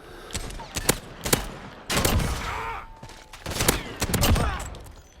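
Sharp, heavy single shots from a .357 Magnum revolver in Modern Warfare, spaced cracks with echoing tails, interleaved with other distant gunfire and brief rumbling.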